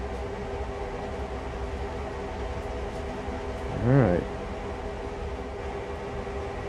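A steady low rumble of a train running in Train Sim World on the NEC Northeast Corridor near Oak Point Yard, droning evenly throughout, with a brief spoken word partway through.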